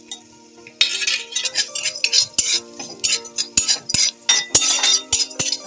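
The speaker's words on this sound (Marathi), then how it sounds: "आणि गरम करून घेऊया पहिले लवंग दालचिनी कोथिंबीर आणि आपली धणे हे मस्त भाजून घ्यायचे" Cloves, cinnamon and coriander seeds dry-roasting in a hot kadhai, with close, repeated metallic scrapes and clinks of a spatula stirring against the pan in an irregular rhythm, no talking.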